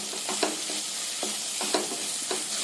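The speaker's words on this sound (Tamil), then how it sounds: "சேர்த்துட்டு நல்லா வதக்கி விடலாங்க. இது கூட கொஞ்சமா மஞ்சத்தூள் போட்டுக்கோங்க." Onions and tomatoes sauté with turmeric in a pan for a tuna fish kothu curry, giving a steady sizzle and frying hiss broken by repeated scraping stirs of the spoon, close and continuous with no talking.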